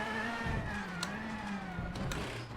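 A rally car engine in the video game WRC 8 drones at steady high revs throughout, a harsh buzzing note with brief shifts in pitch.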